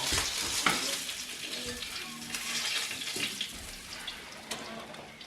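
Oxtail fries in a pot with a soft, steady sizzle and occasional stirring clatter, fairly faint and close, with watery splashing mixed in.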